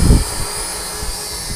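A Visuo Zen Mini GPS drone hovers outdoors in strong wind, its motors giving a steady high-pitched whine and hum, with low gusty rumbles of wind buffeting the microphone, loudest at the start.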